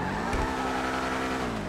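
A Benefactor SM722 sports car in GTA Online revs loudly and steadily up close, its engine note climbing with a light tire squeal and no voices over it.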